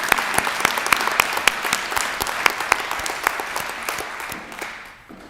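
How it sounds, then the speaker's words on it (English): Audience applauding at a college nursing graduation ceremony, dense sustained clapping from a large crowd that fades away near the end. "let's take a moment and recognize both of them once more with applause."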